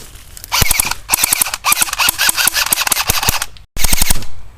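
An AGM Sten MKII airsoft submachine gun fires BBs in loud, rapid full-auto bursts, several strings of fast snapping shots broken by short pauses, close and with no talking.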